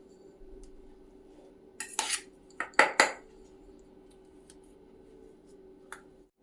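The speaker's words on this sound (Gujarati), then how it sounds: "બટાકાને મેસરથી મેશ કરી દેવાના" Boiled potatoes mashed with a metal masher in a pot, giving a few sharp clanks and scrapes clustered in the middle over a quiet kitchen hum, then one lighter knock near the end.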